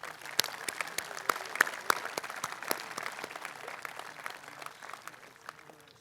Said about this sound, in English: we ought to just recognize them one more time with an applause